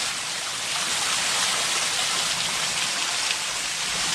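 Heavy rain pouring down in a backyard during a lightning storm, a loud, dense, unbroken hiss of drops with no gaps.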